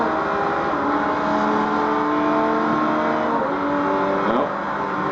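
A Le Mans prototype race car engine in Forza Motorsport 3 revs steadily at high pitch, its tone rising and falling through gear changes, loud and continuous without pause.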